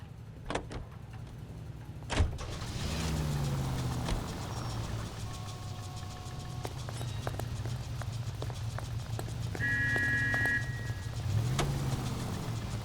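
A roofless car drives along in the 1940s Los Angeles video game L.A. Noire, a steady low engine rumble with a couple of sharp knocks and occasional whines, no voices.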